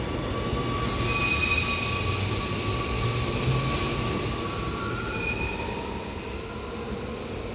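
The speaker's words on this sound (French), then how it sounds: "c'est vraiment le balai des trains et du métro ici" Amsterdam metro trains, CAF S3-M4 units, squeal their wheels sharply on the rails. A loud, high metallic screech rises over the rumble of rolling cars and keeps going for several seconds at close range.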